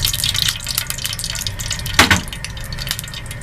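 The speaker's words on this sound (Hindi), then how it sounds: "ऑयल डाल रही हूँ।" Cooking oil poured into a pan over medium-low heat for dum aloo, with a short splashing pour in the middle over a faint continuous background hiss.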